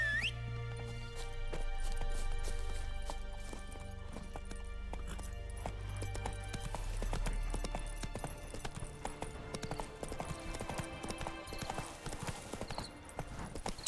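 Roach the horse galloping in The Witcher 3 game, rapid hoof clip-clops beating steadily and close, over a low rumbling game background, without any talk.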